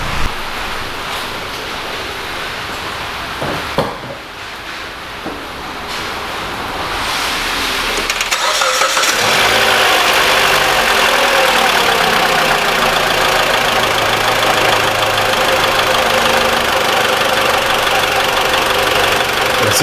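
A 2013 Mitsubishi ASX with a 1.8 engine and the hood open: quiet engine-bay ambience, then the engine cranks and catches partway through and settles into a loud, steady, close idle with no talking.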